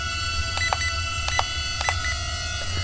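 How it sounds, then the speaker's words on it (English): Remote controller of a Sharper Image X-Treme Jet X-2 stunt drone giving short electronic beeps, grouped in pairs at intervals, over a steady low hum. "listen to the controller. It beeps once or twice. That's your rates"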